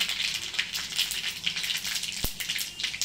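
Mustard seeds and cumin hiss and crackle in hot oil, with a steady, moderately loud sizzle and scattered pops continuing throughout.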